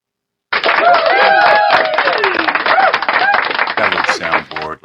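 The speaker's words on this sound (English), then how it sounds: "Let me get a round of applause." Applause sound effect fired from a podcast soundboard, a dense, steady burst of clapping lasting about four seconds and then stopping abruptly, with a voice speaking over it.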